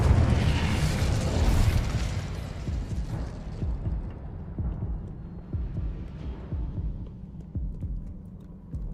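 Incendio fire spell blasts in the Hogwarts Legacy video game: a dense, booming burst of fiery noise that swells early, then breaks into a run of thumping pops that fade toward the end.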